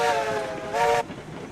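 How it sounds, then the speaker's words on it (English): The locomotive Glenbrook in the RailRoads Online video game sounds a steady harmonic steam whistle for about a second, a short break then a louder burst, heard alone at a moderate distance. "Glenbrook dinging its whistle at us."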